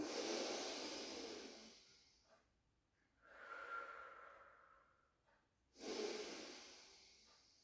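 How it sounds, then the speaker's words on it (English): Slow, audible breaths during a Pilates stretching exercise: a long exhale fades out, then a soft inhale rises midway, followed by another strong breath near the end, close and quiet with no talking. "take a breath in"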